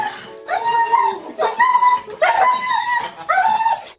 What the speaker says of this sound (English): this dog makes a very odd series of sounds